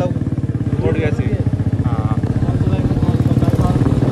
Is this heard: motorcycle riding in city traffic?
yes